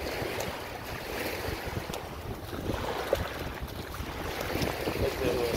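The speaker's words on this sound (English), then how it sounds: "see waves are breaking there" Ocean waves break on a shallow sandbar at a Florida beach, giving a steady, broad rushing wash mixed with wind noise, with no distinct individual crashes.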